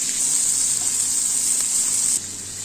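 Dried red chillies frying with onions in a pan give a loud, steady bright sizzle that drops suddenly in level near the end.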